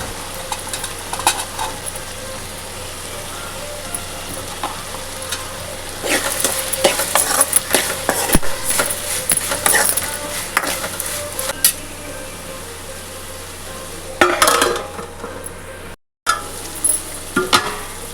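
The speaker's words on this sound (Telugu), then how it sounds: "ఈ కళ్ళుప్పు, పసుపు వేసి బాగా కలియబెట్టి" Rock salt and turmeric being stirred into a taro root curry in a pan, with steady sizzling under repeated scraping stirs and occasional clinks of the spoon against the metal pot.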